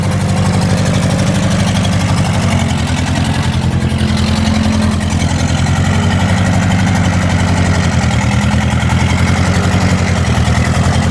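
A 1953 Ferguson TO-30 tractor engine, unused for 15 years, idles continuously with a steady rumble and low, throbbing vibration, loud and close, with no speech over it.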